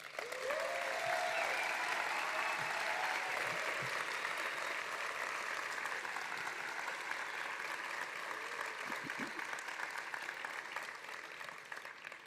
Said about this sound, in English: Please join me in a big round of applause to honor your families and loved ones.